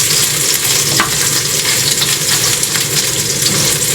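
Garlic frying in a pan, a dense continuous sizzle up close and fairly loud, with occasional light stirring scrapes and no talking.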